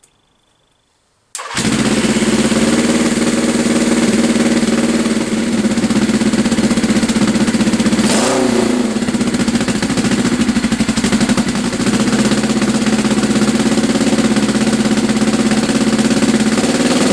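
Motorbike engine cranked on a DIY lithium iron battery pack, reading 13.9 volts, catches after a brief starter burst and settles into a loud, steady, close idle running unbroken to the end.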